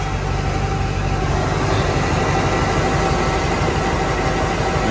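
A Chevrolet Corvette C4 with an LT4 V8 and a newly installed Summit Racing Optispark runs steadily at idle, a continuous low rumble with even vibration, loud and close, with no voices.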